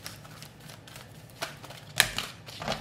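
Tarot cards are shuffled in soft, irregular riffles and taps, with a few sharper card snaps, quiet and close with no voice over them.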